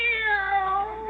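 A cat meows in a long, drawn-out, falling cry, a sound effect in an old radio comedy, heard alone and close with no talk over it.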